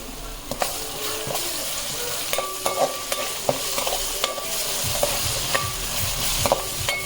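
Ginger garlic paste frying in a pan for a mutton dish, a continuous sizzle broken by repeated clinks and scrapes of a spoon stirring, with faint voices in the background.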